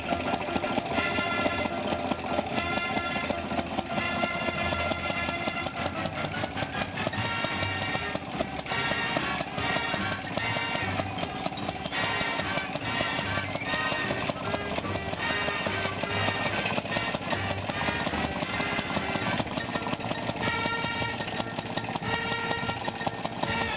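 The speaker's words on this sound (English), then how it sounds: "let's see if we can fire it up here real quick. Notice the kickstart." A restored Maytag Model 92 engine, kickstarted, runs close and loud with a fast, steady, rhythmic putter that holds without a break throughout.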